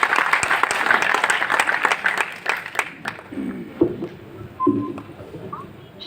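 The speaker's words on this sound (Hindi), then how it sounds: "आप ताली बजा के बुलाइए पद्मिनी शर्मा हमारे बीच।" A kavi sammelan audience in Ayodhya claps to welcome a poet: a few seconds of moderate applause that thins out and fades, leaving scattered isolated claps and some quiet low background murmur.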